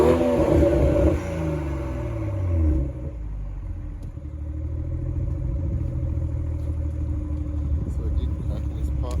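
A car engine revs up with a throaty exhaust roar, then settles into a low rumbling idle.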